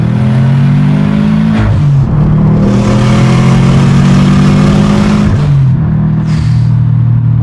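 A Subaru WRX with a Force Performance Blue turbo revs hard up close, its engine droning and climbing through gear pulls with short breaks between them, wastegate hiss and whoosh riding over the rumble.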